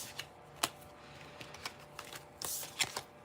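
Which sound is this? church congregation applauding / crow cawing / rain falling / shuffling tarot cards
shuffling tarot cards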